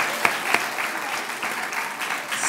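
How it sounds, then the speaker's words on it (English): Audience applause for eighth graders at a school commitment ceremony, a steady wash of many hands clapping close by, with a couple of sharper claps standing out near the start. "So let's give you all a round of applause for that."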